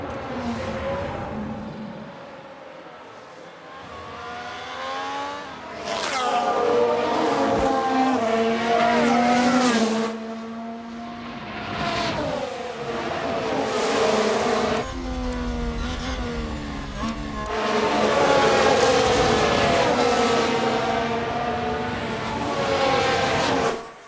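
A Formula 1 car spins out during a race in F1 Manager 2022, with high-pitched engine whine rising and falling, tire squeal and skidding, loud and continuous with surges.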